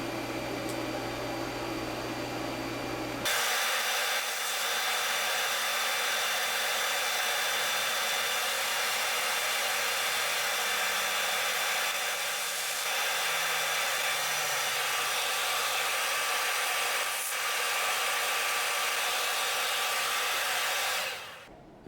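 TIG welding a repair on an aluminum cylinder head produces a steady, continuous buzzing hiss that starts suddenly after a few seconds of lower hum and runs evenly for about eighteen seconds, close and loud, with no talking.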